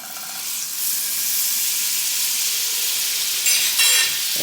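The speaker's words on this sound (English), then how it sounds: "we're going to throw down a little more butter" Butter sizzles loudly in a hot pan while Korean street toast is being made, a close, steady frying hiss that swells slightly near the end.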